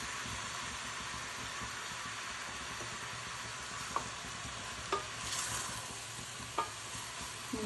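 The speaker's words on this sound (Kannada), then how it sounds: "ಇದು ಸ್ವಲ್ಪ ಬಾಡ್ಸೋಣ." Mushrooms for biryani sauté in a hot pan with a soft, steady sizzle, broken now and then by a few faint clicks of a spoon stirring against the cookware.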